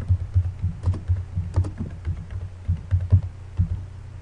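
Keys tapped on a computer keyboard while writing a note in a digital textbook, soft irregular clicks over about four seconds with a low thumping underlay, no talking.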